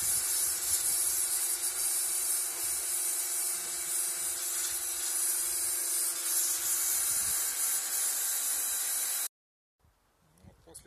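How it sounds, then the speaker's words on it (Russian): A Kärcher pressure washer sprays a cheap bicycle being restored, a loud continuous high hiss of water jet that runs for about nine seconds, then cuts off abruptly with only faint background noise after. "мы его помоем керхером."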